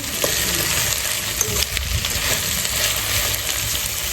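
A vegetable masala curry, seasoned with rock salt, sizzles steadily in a pan while it is stirred, giving a continuous close hiss with soft scraping and no voices.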